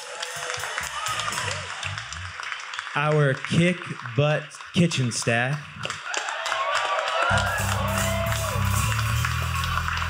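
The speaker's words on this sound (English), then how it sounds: "Let's give them a round of applause." A gathering crowd claps and cheers for the volunteers at a harvest festival, with a burst of applause and shouts before and after someone speaks to the room.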